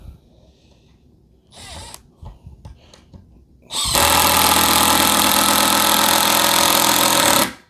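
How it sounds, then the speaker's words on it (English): An impact driver sinks big screws into wood, with some quiet handling and a short whir before a loud, sustained hammering buzz that runs steadily for several seconds up close, with no speech. "Don't you just love impact tools? Makes driving big holes, or driving big screws,"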